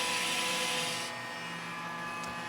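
A VacUpack chamber vacuum packer sealer runs its vacuum cycle, a steady loud mechanical whir and hiss from the pump that drops slightly in pitch and stays constant, with no voices.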